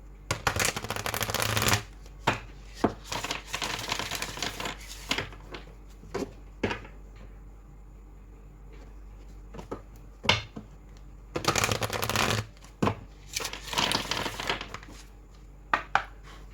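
Tarot cards being shuffled by hand during a card reading, two loud riffling bursts at the start and near the end, with scattered taps and card flicks between them, close by and without speech.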